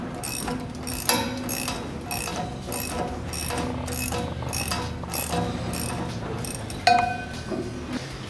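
A ratchet wrench tightening the center bolts on a knife of a Bandit disc-style wood chipper: repeated quick bursts of close pawl clicking in steady strokes, with a few sharper metallic clanks and knocks in between.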